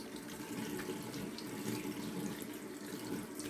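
Tap water running steadily into a sink during a straight-razor shave, a continuous soft splashing hiss heard close and alone.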